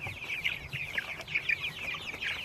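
Chickens clucking out on pasture, a run of short, close clucks and soft calls repeating in an uneven rhythm over a quiet outdoor background, with no voices.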